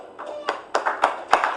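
Applause at the remote-controlled inauguration of a government laboratory, with scattered, uneven claps that rise in several bursts over under two seconds.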